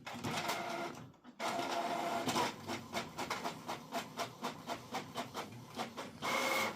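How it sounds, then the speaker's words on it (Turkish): Canon printer printing a document sent from a phone, a steady mechanical whir broken by a brief pause, then a run of rhythmic feed clicks and thumps before the motor swells again, close and alone. "Yazdır diyoruz. Ve yazdırmaya başladı gördüğünüz gibi."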